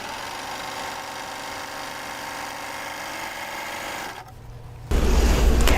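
A sewing machine stitches a 3-thread narrow seam, giving a steady mechanical whir that runs evenly for about four seconds, briefly drops, then resumes louder near the end.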